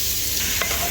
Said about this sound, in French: Dans une casserole, je renverse de l'huile. Je vais renverser les oignons.